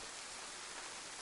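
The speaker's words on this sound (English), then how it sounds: "Sounds like some of that serious rain." Heavy rain in DayZ gives a brief, constant broadband hiss with no pauses or other sounds.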